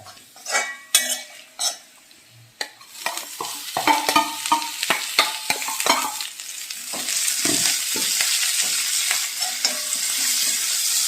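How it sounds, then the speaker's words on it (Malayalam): Chopped amaranth leaves stir-fried in a pan for rava upma, with a spoon scraping and clattering against the pan in irregular knocks over a steady, rising sizzle close by. "ഇനി നമുക്ക് അതിനകത്തേക്ക് ഇട്ട് വഴറ്റ"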